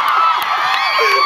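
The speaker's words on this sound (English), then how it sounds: "Please keep cheering." An audience at a Spider-Man: Homecoming panel cheers and whoops continuously in a large hall, a bright steady crowd roar with individual shrill shouts rising above it.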